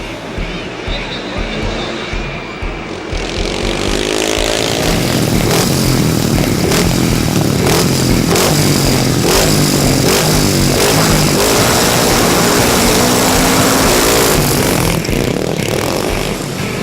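Motorcycle engines rev and roar continuously in an extreme international ice racing event, loud and steady after a quieter opening, with a busy crowd-and-track wash over the engine drone.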